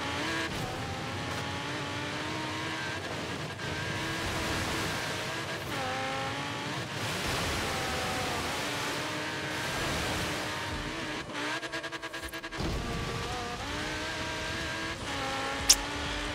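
An Audi R8 V10 in Forza Horizon 3 drives off-road with a steady engine roar, repeated revving as it shifts up and down, and occasional tire squeal and skidding throughout.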